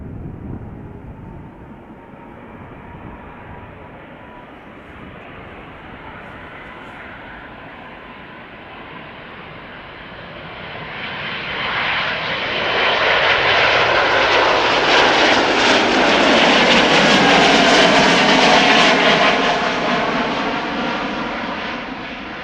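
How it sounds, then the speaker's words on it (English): A Boeing 777 jet bound for Lima taxis and turns at the southern threshold of Schiphol Airport's center runway, its engine roar swelling steadily louder as it approaches and then holding near and powerful. "the 777 to Lima is now turning around the southern threshold of the center runway"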